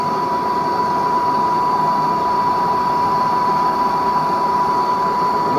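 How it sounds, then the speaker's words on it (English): Gold smelting furnace heating up gives a steady, loud roaring hum with a fixed whine running through it, unchanging for the whole stretch, and no one speaking. "the furnace is heating up."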